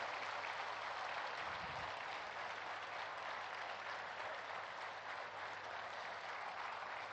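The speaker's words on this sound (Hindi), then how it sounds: "नरेंद्र भाई मोदी जी के सम्मान में हम सब तालियों की गड़गड़ाहट कर रहे हैं।" Sustained, dense audience applause in honour of Prime Minister Narendra Modi at the inauguration of the Swarved Mahamandir in Varanasi, steady and loud throughout with a faint low hum underneath.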